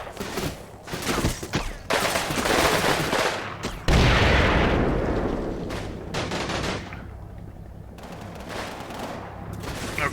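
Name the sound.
tank firing at infantry in video game Combat Mission Red Thunder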